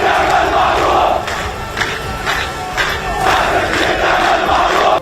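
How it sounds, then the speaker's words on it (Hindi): A large crowd of protesters in the streets of Ramallah shouts and chants in a loud, steady roar that fills the whole stretch, with surges of massed voices. "लोगों ने अस्पताल पर हुए हवाई हमले की निंदा की और इजराइल के विरोध में जमकर नारेबाजी की"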